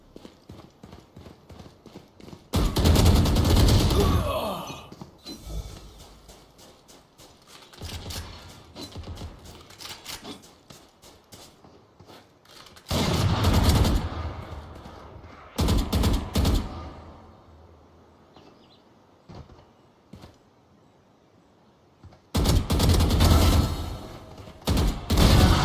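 Video game gunfire comes in several loud, rapid volleys of close shots, separated by long quieter stretches with sparse clicks.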